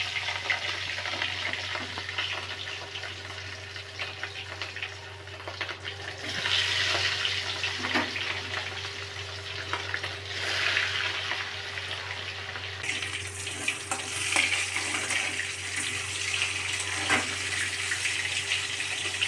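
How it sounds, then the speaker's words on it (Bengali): Pieces of catla fish frying in hot oil in a home kitchen, a continuous close hiss and crackle with occasional louder spattering bursts. "মাছগুলো একটু ভালো করেই ভেজে নেবেন।"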